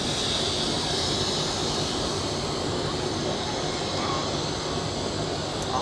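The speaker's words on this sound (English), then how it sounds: "we continue to have a look at this A330 getting ready to taxi" An Airbus A330 airliner at Zurich Airport preparing to taxi, a steady broad roar of jet engines with a faint high whine, constant and moderately distant, with no voices.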